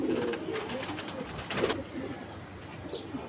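Pigeons kept in cages, including high-flying male and female birds, cooing softly in short repeated throaty calls at close range over light background noise.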